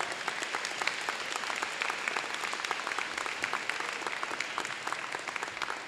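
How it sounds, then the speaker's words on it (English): A high school audience applauds, a dense, steady wash of many hands clapping that holds evenly for several seconds, heard from within the crowd. "Yes, let's clap for that."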